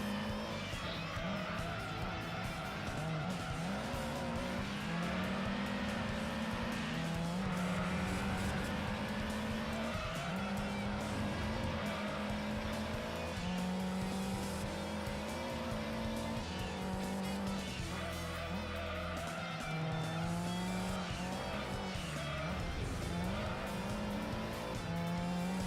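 A race car with a stage 1 turbo roars steadily in Gran Turismo 2, its engine pitch rising and falling through gear changes, with occasional tire squeal, loud and continuous throughout.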